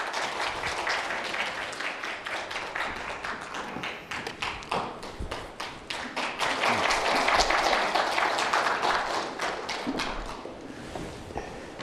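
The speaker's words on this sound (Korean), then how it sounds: "이강호 선배님 큰 박수로 연단에 모시겠습니다" An audience at a university forum lecture gives a long round of applause as a speaker is welcomed to the podium, dense clapping that swells midway, with a few thumps and footsteps mixed in.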